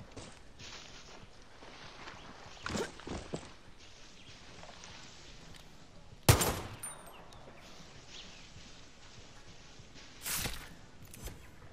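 A few scattered gunshots ring out in Far Cry 6 during a rabbit hunt, the loudest sharp crack coming mid-way and another later, with quiet footsteps and ambience between them.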